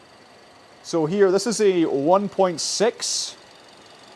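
A 1.6-litre turbo petrol engine in an OMODA 5 idles as a low, steady hum beneath someone talking close by, who carries most of the sound.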